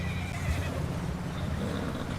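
A horse in the video game Red Dead Redemption 2 whinnies over steady galloping hoofbeats and outdoor game ambience, heard at moderate volume with no talk.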